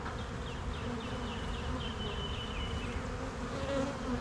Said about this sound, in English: There's also a lot flying around that I bet you could hear.